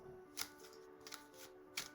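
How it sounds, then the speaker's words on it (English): A tarot card deck is shuffled quietly in a few brief papery riffles, spaced out against a faint electrical hum. "I'm just shuffling my tarot deck right now."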